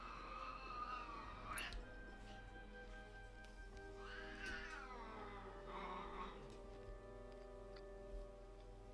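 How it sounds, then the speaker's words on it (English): Cats in Final Fantasy 7 Remake give several drawn-out, wavering meows in separate bursts over a quiet hum of game background sound. "Looking for these cats."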